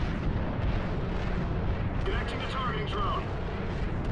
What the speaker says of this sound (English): Now we get to shoot these kinetic rods